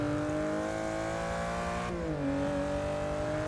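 A racing car in Forza 6 drives through twisty corners, its engine whining loud and continuous, pitch dropping sharply under braking, then rising again as it powers out of the bend.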